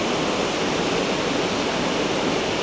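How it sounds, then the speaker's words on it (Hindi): Muddy water pours off a rocky cliff in a steady, loud, broadband rush of falling water that runs without a break and has no voices over it. "चट्टान है जहाँ से ये पानी गिर रहा है"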